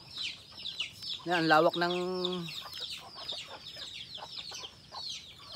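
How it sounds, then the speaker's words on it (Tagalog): Chicks and chickens clucking and peeping at close range outside a coop in rainy weather, with a drawn-out call standing out midway over a steady bed of bird chatter and a person speaking briefly. "So ayan yung mga sisiw."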